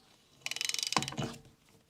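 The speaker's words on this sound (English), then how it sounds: "you can hear the disc, of course, but you can also hear a lot of rumbling" A worn rear wheel bearing and brake disc on a Peugeot 106 give off a quick, rhythmic mechanical clicking and ticking. A rumbling grind follows it, faint and close, with no talk.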